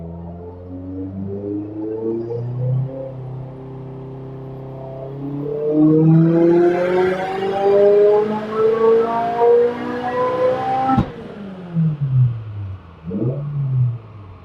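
A turbocharged car engine with a G35-900 turbo revs in a rising sweep up to the rev limiter, then cuts off sharply with a pop, followed by a few short, lower engine bursts.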